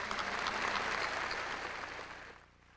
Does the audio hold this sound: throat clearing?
no